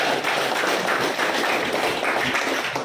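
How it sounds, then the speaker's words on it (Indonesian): Classroom applause from Indonesian schoolchildren after a correct answer about the equator, a steady dense patter of many small hands clapping at close range, continuous and fairly loud throughout. "Tepuk tangan."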